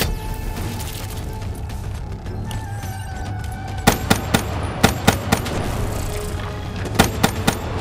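Gunfire in the video game Black Ops 3 aimed at human and robot enemies: a series of sharp, loud shots in quick clusters over a steady rumbling game soundscape.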